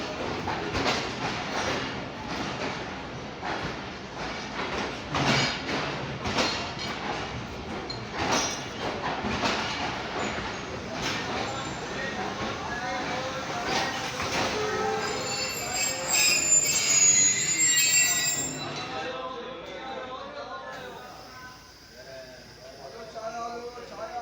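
Passenger train rolling through Rohri railway station in Pakistan, rhythmic wheel clatter and squealing at close range for most of the clip before the noise recedes, with voices talking over it.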